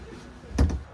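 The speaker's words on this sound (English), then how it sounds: "let's close the door just real quick" The door of a TAB 400 Boondock Edition teardrop camper shuts with a short thud and a quick second knock, close and moderately loud against quiet room tone.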